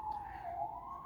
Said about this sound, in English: And I apologize for the sirens, by the way.